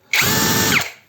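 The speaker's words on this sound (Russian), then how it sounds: "Итак, шуруповерт у нас запускается." A DRIVAK ED002 cordless screwdriver with a freshly fitted battery spins up sharply, whirs steadily at full speed for under a second, then winds down, heard up close with no talk.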